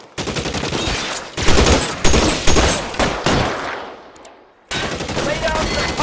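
Heavy gunfire in a shootout from the video game LA Noire, rapid bursts and volleys crowding together loud and close, briefly thinning near the end before another burst erupts.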